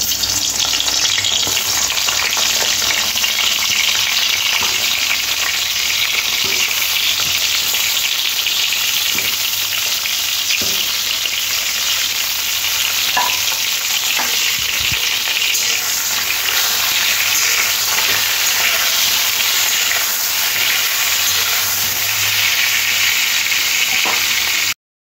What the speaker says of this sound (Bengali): এবারে গরম তেলের মধ্যে বেগুনগুলো দিয়ে একটু লাল লাল করে ভেজে নিতে হবে